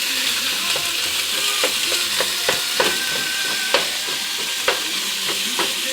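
Beef sizzling and frying in a preheated pan on low heat, a continuous bright hiss broken by scattered sharp crackles and pops, with occasional stirring scrapes.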